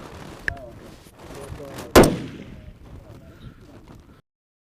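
Sniper rifle fired at a target on an outdoor range, one sharp loud crack near the middle with a short rolling echo, a fainter pop earlier and low background noise.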